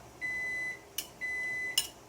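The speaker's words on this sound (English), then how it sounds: "I got something else cooking here, so my timer just went off" A kitchen timer goes off with two sustained electronic beeps, each ending in a brief clatter, close and fairly clear over a quiet room.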